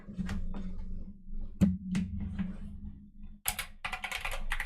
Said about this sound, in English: Oh, my keyboard's in a weird place.